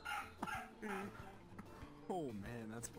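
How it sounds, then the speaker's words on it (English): A dog barks and whimpers in short yips and cries, mixed in with people talking over voice chat in a Rec Room VR session. "my dog was like crying for some reason"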